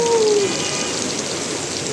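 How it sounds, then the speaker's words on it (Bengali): Heavy rain falling on a city street in Dhaka, a dense, steady hiss of downpour with a brief falling tone at the start, loud and close throughout. "প্রচুর পরিমাণ বৃষ্টি হচ্ছে।"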